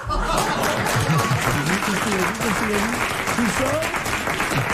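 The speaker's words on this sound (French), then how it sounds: "Vous devriez applaudir Martin." A 1994 French television studio audience claps, steady applause mixed with scattered chuckles and a few voices calling out underneath.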